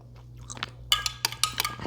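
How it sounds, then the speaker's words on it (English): Someone chewing a small piece of shrimp dipped in cocktail sauce, heard up close as a few soft, moist crunches and bites over a quiet low hum. "take a little piece of the shrimp and stick it in there and have a taste"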